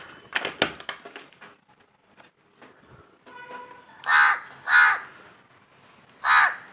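A crow caws several times at a house window, with sharp tapping of its beak against the glass early on, then three loud, close caws spaced apart.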